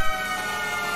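FDNY fire truck siren during a Manhattan emergency response, a loud, close, sustained wail with strong harmonic tones holding steady, alone without voices.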